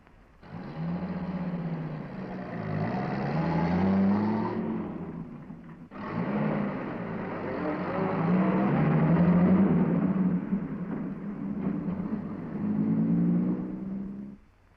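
An army truck drives toward a gas-contaminated area, its engine rumbling and whirring steadily at close range with a brief dip in the middle, running alone without any voices.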